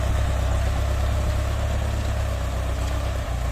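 Engine of a water pump running steadily to pump water into a ploughed field for planting sugarcane, a loud continuous low rumbling drone that holds without a break throughout.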